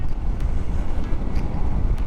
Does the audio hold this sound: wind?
yes